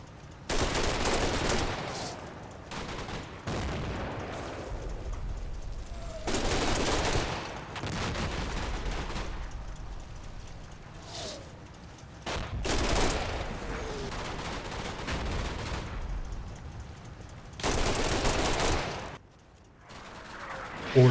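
Mortar barrage and gunfire in the Combat Mission video game over Normandy bocage: loud blasts and bursts of rifle and machine-gun fire in irregular clusters, separated by quieter gaps, with no talking.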